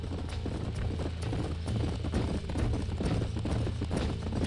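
Horse hooves clip-clop at a steady trotting rhythm across dirt in the video game Red Dead Redemption on PS5. The footfalls are continuous and moderately close, with no voices over them.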